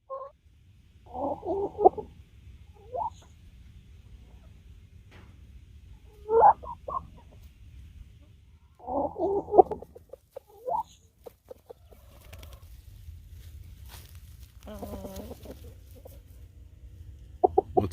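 Chickens cluck in scattered short bursts in a deep-bedded compost chicken yard in winter, over a quiet, low background hum, with a few sharper squawks in between.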